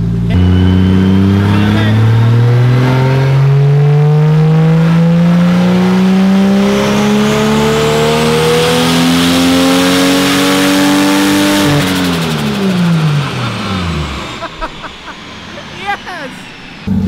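An eBay-turbo Toyota Supra revs hard on a dyno, the engine note climbing steadily for about twelve seconds before dropping off sharply. Close and loud, with excited voices heard over it.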